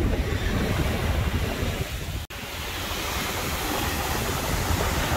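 Ocean surf rolls onto the beach at Parsons Landing, a steady, loud wash of breaking waves with wind buffeting the microphone and a brief dropout midway, with no voices.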